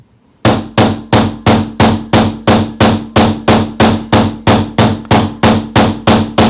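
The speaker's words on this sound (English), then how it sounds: "So I'm expecting a lot of heavy hammer blows with this to make a mark." A combination texture hammer strikes metal in heavy, evenly spaced blows, about fourteen loud ringing impacts in quick succession, close and alone.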